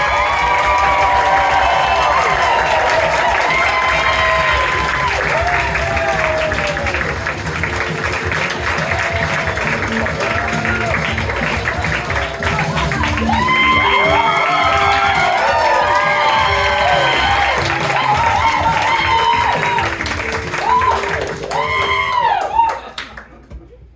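A live science-show audience claps, cheers and whoops for a guest scientist, loud sustained applause with shouting and excited voices rising and falling, fading out at the end.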